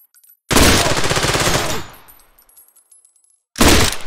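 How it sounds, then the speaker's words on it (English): Sustained automatic machine gun fire from the shooter game Trepang2, a loud dense burst lasting over a second that fades into a decaying tail, followed after a quiet gap by another loud burst. "the machine gun sounds really good"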